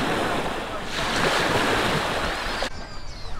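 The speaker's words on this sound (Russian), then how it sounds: "Это уже пляж отеля Маритим Пайн Бич." Surf washing onto a hotel beach in Turkey, a loud rushing wash mixed with heavy wind buffeting the microphone, easing off near the end.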